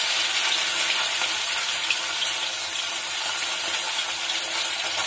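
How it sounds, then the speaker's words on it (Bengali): Bata fish frying in a pan of hot oil gives off a steady, broad sizzle, close and constant throughout with no talking. "এই দেখুন, এইভাবে আমি ভাজা করছি মাছটা।"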